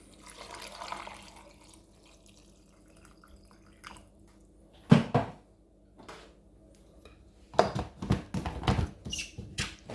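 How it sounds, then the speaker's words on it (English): Water poured into a blender jar for a pineapple, ginger and lemon drink, a low trickle at first and then louder splashing bursts of pouring, close up, with no talking. "I'm going to add some water."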